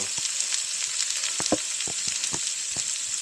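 Olive oil sizzles and crackles in a pan, a steady hiss dotted with sharp pops and spatters, close and fairly loud, no voices.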